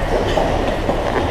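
Loud, close rumble of a metro train in motion in Saint Petersburg, with rhythmic rail clatter under a steady roar.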